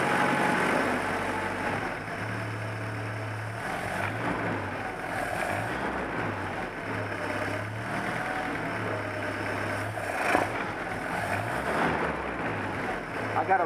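1955 Willys Jeep CJ5 engine idling during a rebuild, a steady low rumbling chug with a slightly uneven rhythm, continuous and close throughout, with faint talk underneath.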